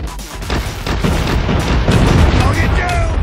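Missile explosion in the Call of Duty Mobile multiplayer video game, a loud, dense booming blast with rumbling low end and crackling debris over about three seconds, amid game combat noise.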